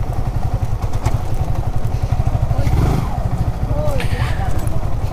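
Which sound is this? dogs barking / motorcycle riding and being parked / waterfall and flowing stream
motorcycle riding and being parked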